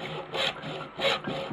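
A small hand saw cuts in two rasping back-and-forth strokes, close and fairly quiet, while preparing a smoke device.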